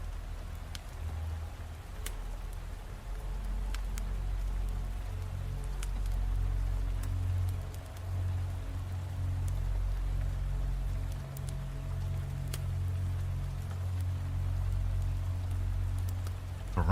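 Steady rain falling hard, a constant wash of patter with a deep low rumble underneath and occasional sharper drops, even and unbroken from start to finish.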